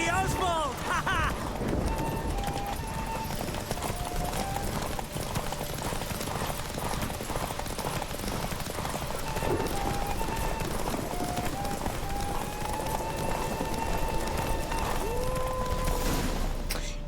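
Roach, Geralt's horse in The Witcher 3, gallops in a steady clip-clop of hooves running under continuous game music and a voice talking over it.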